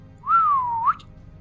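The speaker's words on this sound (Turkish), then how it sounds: "Hafifçe ıslık çaldım." A person whistles lightly: one clear, smooth note that glides down and then back up, lasting under a second, alone against a quiet background.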